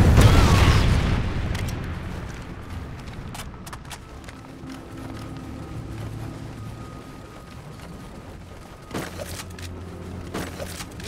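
Trinity rocket strikes in the game Call of Duty Ghosts, a heavy boom at the start that decays into a rumbling tail, followed by scattered crackling impacts and a second thud later.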